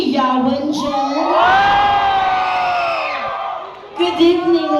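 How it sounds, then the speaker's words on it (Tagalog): A crowd at an evening debut celebration cheers, shouts and whoops loudly in a sustained swell of voices, then a second burst rises near the end. "Wala rin po ba hiyawan dyan?"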